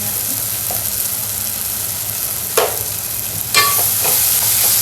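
Greens frying in a pan with Malvani masala give off a dense, even sizzle throughout, joined by a few sharp scrapes of a spatula stirring the leaves; no talking.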